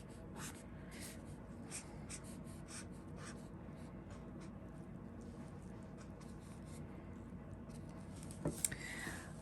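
Pencil scratching across paper while drawing a fox portrait, a faint, close run of soft strokes in short repeated bursts, with one slightly sharper tap near the end.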